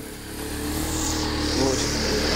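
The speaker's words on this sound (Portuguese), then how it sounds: "Olha, vem uma moto, como tu sabes, já estás a ouvir." Motorcycle approaching on a road near Fajã de Santo Cristo, a steady broad engine roar that swells gradually louder and closer, with nobody talking over it.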